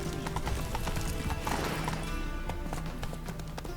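Horse galloping in The Witcher 3 video game, a steady clip-clop of hooves with an occasional whinny, loud and continuous over ambient game sound.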